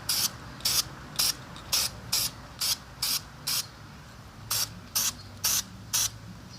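Aerosol spray paint on a brake caliper, about a dozen short hissing bursts in a steady rhythm, close and fairly loud over a low background.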